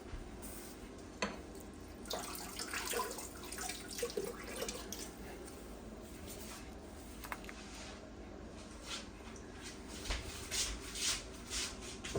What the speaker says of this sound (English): Wash it off.